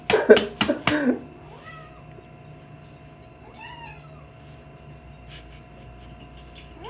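A domestic cat lets out several loud, close meows in quick succession at the start, then quieter, higher chirping meows follow intermittently over a faint steady hum.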